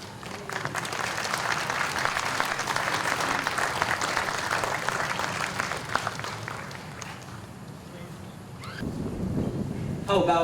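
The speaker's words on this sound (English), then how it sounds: "How about one more round of applause" Sustained applause from an audience at a Waterloo Municipal Band summer concert, dense clapping that fades out near the end, followed by a brief low rumble.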